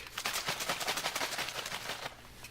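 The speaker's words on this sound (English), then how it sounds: "we're going to give our yeast pack a good shake" A beer yeast pack is shaken hard by hand, a fast run of sharp, evenly spaced slapping rattles for about two seconds that then stops, heard close and with no talking.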